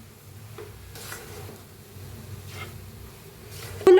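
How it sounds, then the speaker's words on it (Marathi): Grated carrots for gajar halwa are stirred and roasted in a pan, making a quiet, continuous scraping and soft sizzle with a few brushing strokes and a sharp clink at the end. "मिक्स करत करत का नाही दोन तीन मिनिट असं भाजून घ्यायचं हलवत राहायचं"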